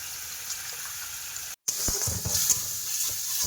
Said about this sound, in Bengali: মশলা কষাই হচ্ছে